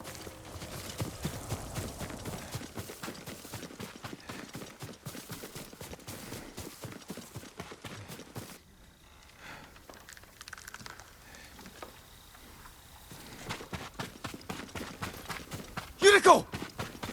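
Hoofbeats of a horse in Ghost of Tsushima patter along quickly and fairly near, pausing midway before resuming, with a voice speaking over parts of it and a sharp burst near the end.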